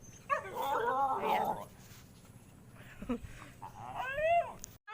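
A dog whimpers and yips in high, wavering whines, fairly close but faint, with soft background noise between the cries.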